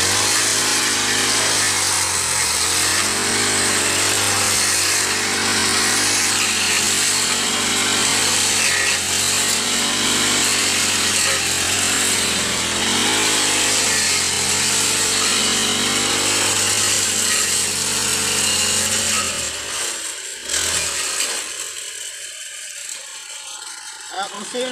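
A motorized grass cutter drones steadily and loudly, with a whirring buzz whose pitch wavers slightly as it slices through grass, then cuts off abruptly near the end.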